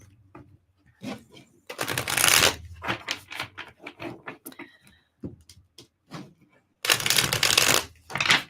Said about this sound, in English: Do a quick shuffle.